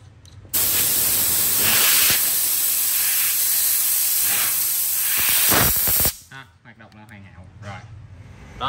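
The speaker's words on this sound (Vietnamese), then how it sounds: "bây giờ mình sẽ tiến hành mình thử cái súng lửa xe cho anh em nha" A gas torch burner set to a low fuel flow lets out a loud, steady hiss for about five seconds, then cuts off abruptly, leaving quieter scattered noises.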